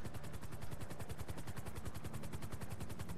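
Rapid, steady gunfire from a sniper rifle in the video game GTA 5, evenly spaced loud shots that carry on without pause for the whole stretch, with no talking over them.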